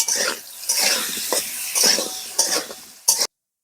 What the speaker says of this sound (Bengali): সবার প্রথমে আমি আলু ভেজে নেবো পরিমাণ মতন লবণ হলুদ